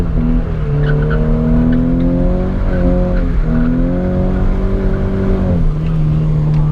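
Nissan 350Z drifting on a track, tires squealing in long sustained tones over a loud, steady engine roar, with the pitch shifting as the car slides.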